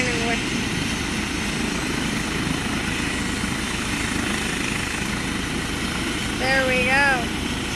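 A helicopter drones steadily in the distance on Braden School Road in Chippewa, a constant engine and rotor rumble with a brief whistling sweep near the end.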